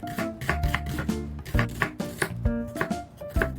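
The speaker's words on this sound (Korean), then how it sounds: "양파를 썰어줍니다." An onion is sliced with a knife while side dishes are made for the Chuseok holiday: a steady run of crisp, close chopping taps on a board, over a tonal background.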